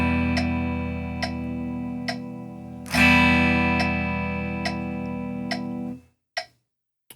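Guitar chord held as long whole notes over a steady metronome click, one strong strum restriking near the middle and ringing out before silence at the end, played alone at a beginner lesson.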